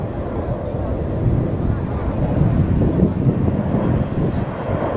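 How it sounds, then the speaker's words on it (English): An Airbus A400M Atlas at the RIAT 2019 air show, its four Europrop TP400 turboprop engines driving large propellers, makes a loud, sustained low roar mixed with wind buffeting on the microphone. "Plenty of power from the 4 Europrop International TP400 turboprop engines"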